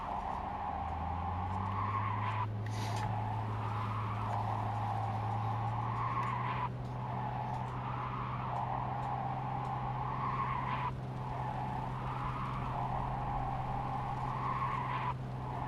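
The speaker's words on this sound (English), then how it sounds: "Sounds like I'm doing drifts, but I'm not." Car tires squealing in repeated drift-like skids in the Cyberpunk video game, a continuous loud screech over a steady engine drone, swelling every few seconds throughout.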